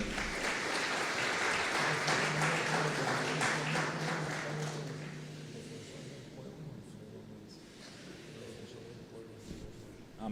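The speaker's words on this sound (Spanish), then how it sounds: "Un aplauso para él también" An audience at a book fair event applauds the Venezuelan ambassador to Cuba, a broad wash of clapping that starts strong and fades to a thin scatter by the end.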